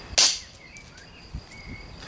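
A Wa Shan double barrel airsoft shotgun fires once, a single sharp close snap followed by faint mechanical clicks and low hiss.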